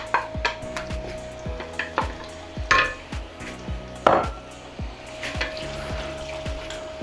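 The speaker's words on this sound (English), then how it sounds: "Straight away in goes the onion, the 3 small onions finely sliced." Three small onions, finely sliced, go into a pan and fry with a steady sizzle, while a spoon makes sharp repeated knocks and scrapes against the pan close by.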